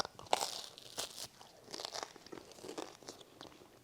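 Someone chewing and crunching a bite of homemade bread, with irregular close crisp crunches and mouth sounds at a low level, no talking.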